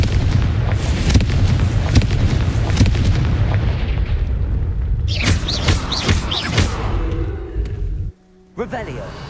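Booming explosion effects from the Confringo spell in Hogwarts Legacy, heavy low rumbling blasts layered through continuous game sound, with a sharper burst later and a short drop to near quiet before a final hit; speech is present.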